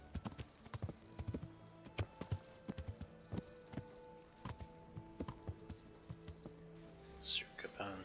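A knight's horse in Kingdom Come: Deliverance walks with clear hoof clip-clops in an irregular rhythm, joined by a soft snort or whinny near the end and faint low voices behind.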